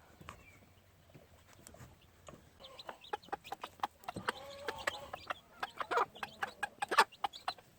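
A gamefowl hen clucks among her six chicks as they feed on boiled eggs, starting soft and building into a close, busy series of sharp clucks and peeps.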